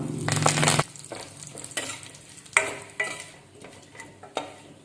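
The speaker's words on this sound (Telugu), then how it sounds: "కరివేపాకు వేసుకుందాం" Curry leaves, cumin, dried red chillies and crushed garlic crackle in hot tempering oil for a coriander-tomato chutney, a loud burst of sizzle followed by several softer spatters and stirring clinks, with no talking.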